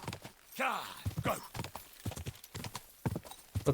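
Clip-clop of horse hooves at a steady gait in Kingdom Come Deliverance 2, with a brief whinny, fairly close, over light game music and scattered sounds.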